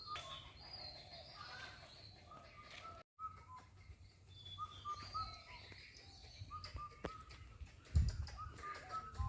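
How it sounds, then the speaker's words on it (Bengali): Small birds call with repeated chirps and short whistles at a village edge in early morning. The calls are moderately near over a soft background hum, with a brief rustling burst near the end. No one speaks. "কাঠ ঠোকরানোর মতো একটা পাখির শব্দ আসছে এটা কি পাখি"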